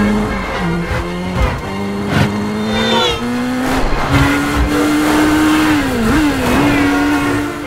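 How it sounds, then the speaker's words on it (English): A motorcycle surges through oncoming traffic in a film action scene, its engine note rising and falling in pitch with revving shifts while other vehicles rush past, loud and continuous with tire noise throughout. "Here we have Tom Cruise on a motorcycle with no helmet, no wires or cables, driving headfirst into oncoming traffic"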